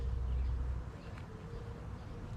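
Honeybees buzz around a hive set up a day earlier, a faint, steady hum of many insects under a low rumble, with no one speaking.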